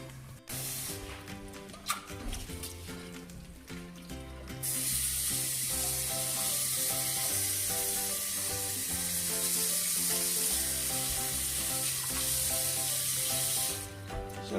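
Water from a kitchen tap runs steadily over boiled rice in the sink as it is rinsed of starch. A louder hissing stream continues for most of the stretch, with music playing underneath.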